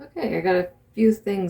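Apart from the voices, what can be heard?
No distinct noise like a dog, phone or traffic.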